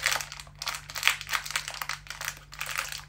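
A crisp packet featuring Masha and the Bear crinkles and crackles continuously in rhythmic bursts as hands work at the plastic to open it, close and fairly loud.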